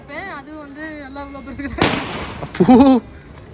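Small Diwali firecrackers, the tiny string-type crackers, go off outdoors in two short noisy bursts of popping crackle, with talking voices before and between them.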